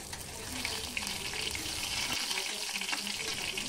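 Dried red chili and whole cumin frying in mustard oil, a close, bright crackling sizzle that holds steady for a few seconds with faint spattering, no speech.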